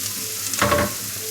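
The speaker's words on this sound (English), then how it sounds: "So I'm gonna chuck them in the pan and brown them up a little bit." Chopped onions hit a preheated pan with a sudden burst of loud sizzling that swells and then settles into a steady fry, with no voices.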